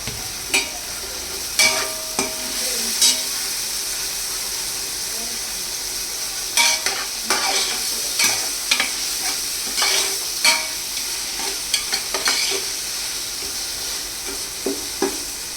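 Mutton frying with masala in a pot for biryani, a constant close sizzle broken by regular scraping clacks of a spoon stirring through it.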